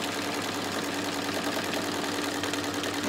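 An embroidery machine stitches a mug rug held in the hoop, giving a steady, dense mechanical whir that runs without a break at close range.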